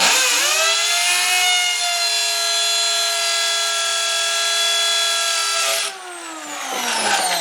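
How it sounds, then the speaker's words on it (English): A power drill fitted with a masonry bit grinds through MDF, giving a loud, steady high whine that runs for several seconds, then drops in pitch near the end as the bit slows or breaks through. "Masonry bit's not particularly good at going through MDF."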